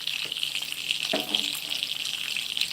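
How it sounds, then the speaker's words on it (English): Hog jowl fries in an iron skillet, a steady close sizzle and crackle with a few light knocks, no talking. "our skillet that's doing the hog jowl"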